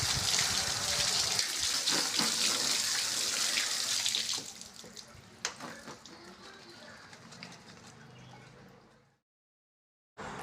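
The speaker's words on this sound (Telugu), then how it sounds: "ముందుగా దొండకాయలు పచ్చిమిర్చి టమాటాలని శుభ్రంగా కడుక్కుందాం" Ivy gourds, green chilies and tomatoes are washed under a running tap in a kitchen sink, with a steady gush of water and splashing that thins out before the flow stops, followed by brief quiet.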